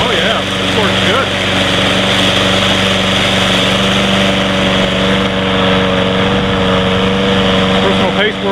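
A Toro Personal Pace GTS-XL 21-inch Recycler lawn mower engine runs on a freshly fitted aftermarket carburetor, a loud, steady, close-up drone that holds even throughout without pause.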